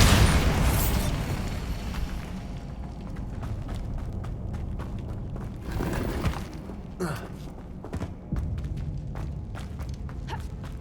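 Bombarda spell blasts in Hogwarts Legacy, a heavy explosive burst at the start followed by scattered booms, pops and crunching debris impacts, with footsteps and game action continuing loudly throughout.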